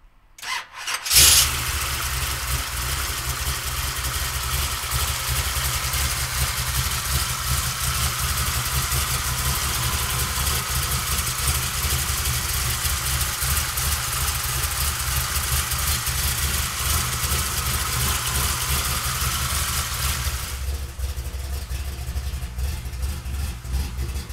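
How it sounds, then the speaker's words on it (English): A 1967 Chevrolet Camaro RS with a 572 big-block V8 cranks briefly, then fires and settles into a loud, steady, rumbling idle close by for about twenty seconds before easing slightly near the end. "we'll fire this 572 up for you right now"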